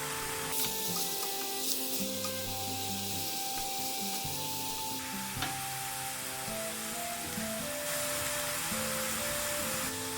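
Vegetables braise and sizzle in a pan, a steady bright hiss of frying that keeps going at an even level with faint stirring clicks.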